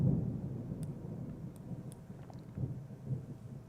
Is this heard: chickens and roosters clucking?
no